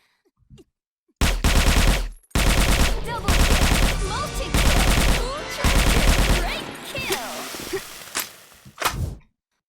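AK rifle firing in the Sudden Attack video game: long sustained bursts of automatic gunfire, loud and close, broken by short gaps and ending in a few brief final volleys.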